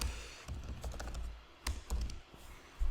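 Keystrokes on a computer keyboard as a cd command is typed, a quick run of close, light clicks with brief pauses between bursts and no talking.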